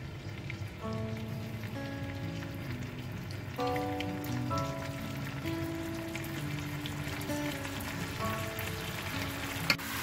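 Chicken taco sauce simmers and sizzles in a pan, a steady crackle of frying throughout while soft background music plays underneath.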